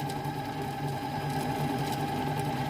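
A kitchen robot cooker motor whirs at speed 9 with a steady, buzzing drone, close by and constant, no talking.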